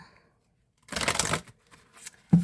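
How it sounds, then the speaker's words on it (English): A deck of oracle cards being shuffled by hand, one quick riffling burst of rapid paper flutter lasting about half a second, followed by a few softer card taps and a brief thump, close and clear. "and then one more shuffle"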